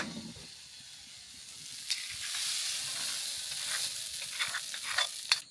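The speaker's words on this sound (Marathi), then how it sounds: "हे वाटप जांबूस कलर भाजायचा" Masala paste with garlic roasting in a pan for a Malvani clam (kalva) masala gives a steady soft sizzle with scattered crackles and a few stirring scrapes, close and fairly quiet, with no talking.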